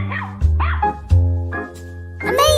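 A dog barks several times in short, sharp bursts, close and loud, with whimpering yips between the barks and no talking.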